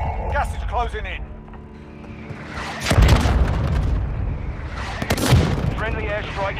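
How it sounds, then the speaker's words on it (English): Airstrike explosions in Warzone Mobile land as two heavy, close booms with rumbling tails, between bursts of radio-style voice chatter. "Friendly airstrike in the AO."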